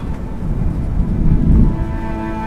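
Thunder rumbles low under steady rain in a period drama scene, a continuous storm bed that swells slightly midway, with no voices over it.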